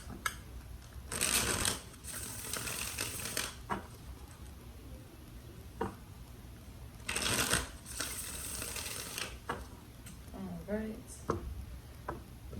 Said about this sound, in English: Alright, 2 more shuffles.